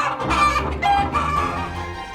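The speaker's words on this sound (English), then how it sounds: "The hen came flapping with the chick and the duck" A farm hen clucks and squawks in quick, loud bursts up close, with a crowing-like call mixed in over about two seconds.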